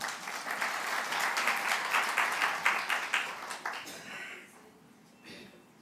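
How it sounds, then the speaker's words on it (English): An audience applauds a woman called to the podium at a building launch for an early childhood education department, a dense steady round of hand clapping that tapers off toward the end. "Let's clap hands for her."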